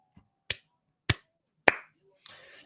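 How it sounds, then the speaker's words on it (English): Four sharp, evenly spaced hand claps ring out about half a second apart, clean and close, followed by a softer, brief rustle. "I clapped."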